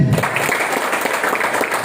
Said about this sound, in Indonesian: tepuk tangan untuk BTS.